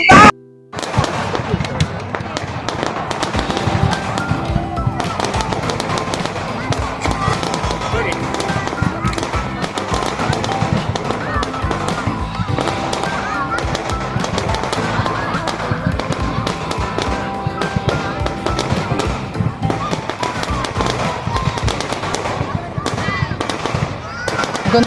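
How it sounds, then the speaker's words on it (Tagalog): Fireworks at a Japanese hanabi festival crackle and thump continuously in dense, loud volleys of bursts, with people talking and exclaiming over the display. "Sobrang ganda ng mga fireworks, grabe."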